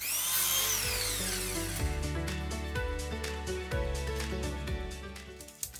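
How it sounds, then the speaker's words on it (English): Miter saw cutting wood pieces to length for a dresser drawer, a loud motor whine spinning up and then a series of rhythmic knocks and rasps as the blade bites, close and without talk. "used the miter saw to cut these to the right length"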